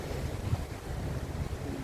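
Steady wind blowing over open sea aboard the Carnival Splendor cruise ship, a continuous low rushing roar with surf-like wash, fairly soft and unbroken, with no voices.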